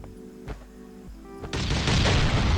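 A couple of sharp thuds followed by a loud, rumbling blast that swells into a sustained roar of crumbling debris as explosives blast a wooden wall in Last Island of Survival.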